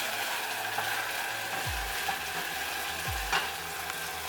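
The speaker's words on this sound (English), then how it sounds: "I'll let that steep in the olive oil." Food frying in olive oil in a pan while a pizza sauce is made, a steady soft sizzle and crackle with a couple of dull low thumps, close and fairly quiet, no voices.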